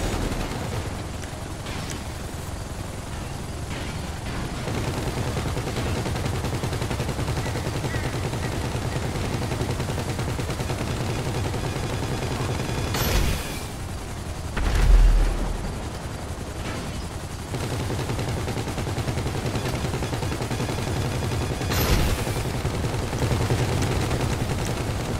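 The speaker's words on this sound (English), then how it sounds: "You can then have all three miniguns firing to take them out." Miniguns fire at Buzzard helicopters in GTA Online, a steady, dense rumble of rapid gunfire running throughout, with a couple of sharper blasts standing out.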